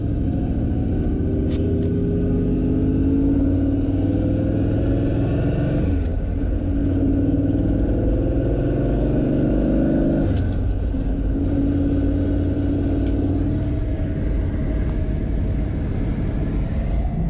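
A 1976 Dodge D100 truck with a 440 engine driving, heard from inside as a steady loud low rumble with gear shifts and engine pulls rising and falling throughout.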